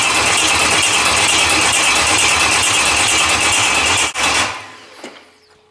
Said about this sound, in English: See if she'll work, see if she'll crank over.